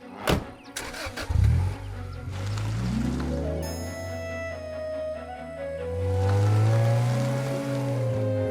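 A cartoon car starts with a few sharp clunks and bursts, then its engine settles into a steady, revving hum that swells and dips as it drives along, with no voices over it.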